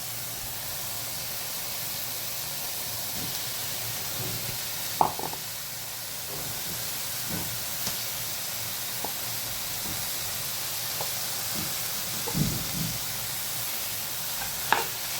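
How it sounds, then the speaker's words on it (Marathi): Smashed roasted brinjal fries in a pan for bharit under a steady, broad sizzle, with a few soft scrapes and taps from stirring scattered throughout; no speech. "आपण आता हे बारीक केलेले स्मॅश केलेले वांगे टाकूयात"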